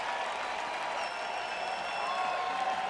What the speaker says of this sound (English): you're gonna hear some music and some applause, kind of like this